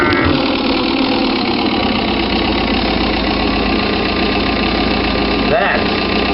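A rollback wrecker truck engine in the Rigs of Rods driving game drones steadily at idle, a loud, constant low rumble with a brief rising whine near the end.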